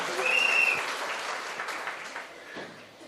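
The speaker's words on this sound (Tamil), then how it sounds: "கைத்தட்ட 5 பேருக்கு நன்றி" A small audience claps at a speech event, a light scatter of applause that starts strongest and slowly thins out, with a faint voice underneath.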